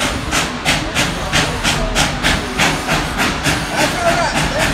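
A steam train at the Tweetsie railroad hisses loudly and close in a steady rhythmic chuffing, about two bursts per second, with broad steam noise throughout.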